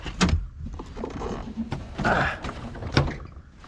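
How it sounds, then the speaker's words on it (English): A car door opening on a Nissan S13 with mechanical clunks and rattling scrapes, a couple of sharper knocks near the start and end. "And I'll probably open this door up."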